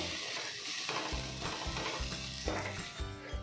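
Tomato masala cooking in a pan with turmeric powder mixed in, stirred with intermittent scraping strokes over a continuous sizzle, with a low background hum and no talking.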